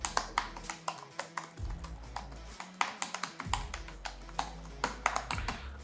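Someone types on the keyboard of an Infinix Y1 Plus Neo laptop, producing a close, steady run of crisp tactile key clicks at an irregular typing rhythm with no talking.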